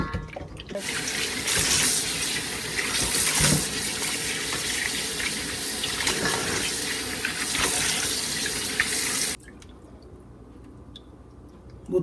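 Catfish are washed under a running kitchen tap, a steady loud gush of water splashing for about nine seconds before it is shut off, leaving quiet room tone. No one speaks.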